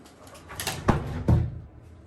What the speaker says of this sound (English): Sliding door here.